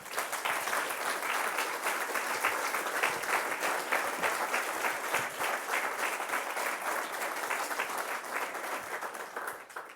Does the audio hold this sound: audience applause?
yes